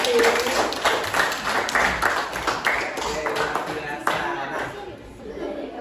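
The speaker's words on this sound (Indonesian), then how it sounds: "Boleh dong kasih tepuk tangan bersama-sama" A class of schoolchildren clap together in a lesson, dense uneven handclaps filling the room throughout with chatter and voices mixed in, tapering slightly near the end.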